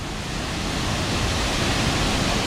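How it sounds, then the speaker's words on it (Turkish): Murgul Delikli Kaya waterfall in the Black Sea region of Turkey, a loud, constant broadband roar of falling water heard close up with no voices. "O meşhur Murgul Delikli Kaya Şelalesi."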